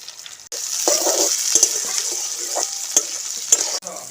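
Chopped onion and tomato hitting hot oil with tempered spices for egg biryani, a sudden loud sizzle that settles into a steady close frying hiss with occasional crackles and stirring clinks, then cuts off; no talking.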